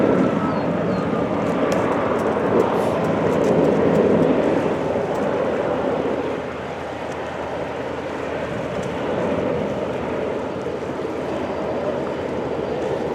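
A small airplane approaching to land in Ontario, a steady broad engine drone from a distance that holds loud for several seconds, then eases slightly and continues as a softer rumble.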